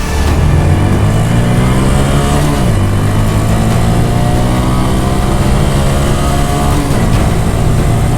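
2019 Honda Monkey motorcycle accelerating hard through its four gears, the small engine's loud buzzing drone climbing in pitch, dropping at a gear change, then rising again close up.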